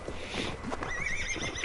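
A horse in the video game Assassin's Creed Valhalla lets out a close, loud whinny with hooves clip-clopping underneath.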